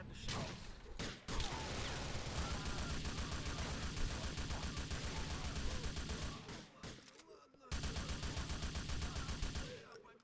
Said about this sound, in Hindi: ओ तेरी शॉटगन।